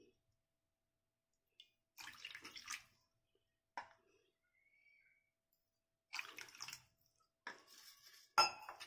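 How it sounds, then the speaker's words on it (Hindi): Water poured into a pan while making rabdi falooda at home, heard as several short, quiet splashing pours separated by silence, with a faint clink of utensils and metal cookware. "बाकी पानी अब मैं इसमें ऐड करती हूँ।"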